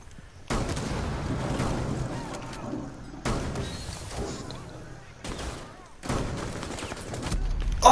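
Rainbow Six Siege gunfire on PS4 comes as several loud bursts of rapid shots lasting a second or two each, separated by quieter gaps, with a player's voice faintly present.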